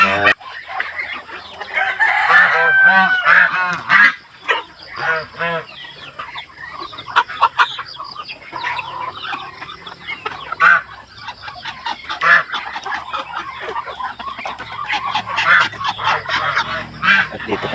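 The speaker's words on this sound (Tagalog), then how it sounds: "meron tayong inahin na bagong pisa" A mother hen clucks among a chorus of high, thin peeps from her newly hatched chicks, with a person talking intermittently nearby.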